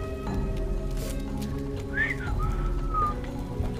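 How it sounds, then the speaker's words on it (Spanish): Enemy whistling in Halo 3 ODST, a few rising and gliding whistled notes over a steady rain-like game ambience, moderately loud with no talk. "En especial ese que está chiflando."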